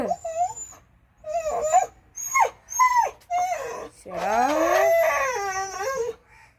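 A dog whines and yelps in several short, rising bursts, then lets out a long, wavering howl, loud and close.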